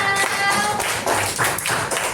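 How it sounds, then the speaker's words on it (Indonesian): Classroom of students clapping for a classmate, a dense, loud burst of many hands close by, sustained for a couple of seconds with no talk. "Tepuk tangan buat Raihana"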